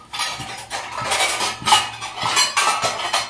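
Metal dishes, pots and cutlery clatter and clink close by in a home kitchen as utensils are handled and arranged, in a continuous run of uneven bursts.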